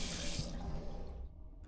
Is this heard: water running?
yes